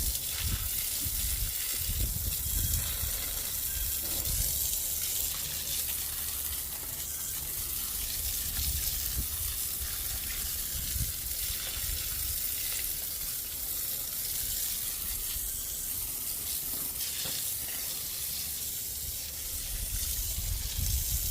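Water sprays hard from a repaired outdoor spigot hose, washing mud off a CRT23 mini skid steer with Fortis HD tracks; a steady, loud hiss runs continuously with slight shifts in pressure and splatter, no talk.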